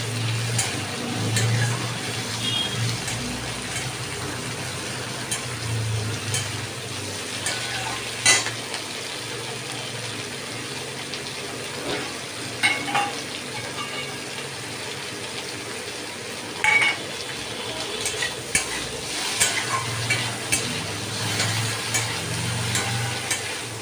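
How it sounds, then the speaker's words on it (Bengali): Prawns and taro stolons frying in a pan, a continuous soft sizzle with occasional louder scrapes and knocks from stirring, heard alone without talk. "চিংড়ি মাছ দিয়ে ভালো করে ভাজি"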